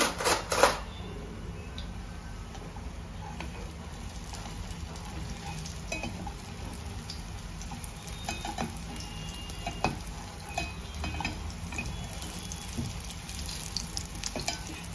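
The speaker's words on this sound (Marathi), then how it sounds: "मीडियम गॅसवरती तळायचे। थोडा वेळ हात न लावता दुसऱ्या बाजूने आता परतवायला घेतो मी।" Hara bhara kababs shallow-fry over a medium gas flame while being turned; a constant soft sizzle and crackle of oil runs throughout, with a few sharper taps and scrapes near the start.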